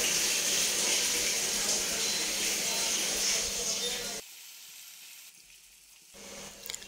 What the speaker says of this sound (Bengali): পেঁয়াজটাকে ভালো করে তেলের মধ্যে একটুখানি